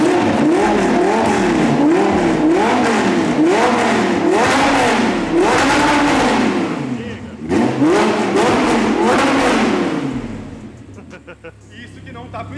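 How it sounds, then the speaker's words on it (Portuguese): An Audi R8 with a straight-pipe exhaust revs hard in repeated rising and falling sweeps, loud and close, then drops to a low idle near the end. "vocês vão já basicamente ter uma prévia de como que vai ficar o escapamento depois que a gente montar"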